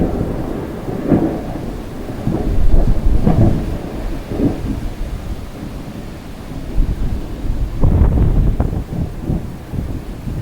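Rolling thunder from an electrical storm with lightning, low booming rumbles swelling around three and eight seconds over steady rain and gusty wind buffeting the microphone, with no talk.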